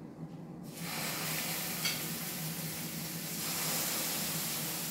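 Zebra meat hits a hot pan and bursts into a loud, steady hiss of searing that holds close and constant to the end.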